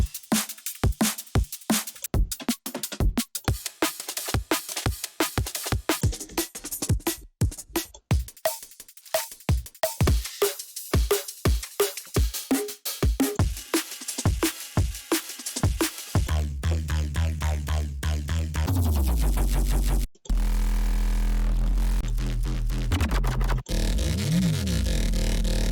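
Neurofunk drum and bass material from a Serum sample pack: punchy drum loops and effects give way to dense, growling bass lines that run loud and continuous through the second half, playing alone without talk.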